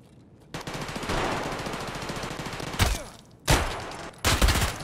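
Rapid automatic gunfire rattles in Escape From Tarkov, in loud sustained bursts broken by short pauses, close and dominant with no talking.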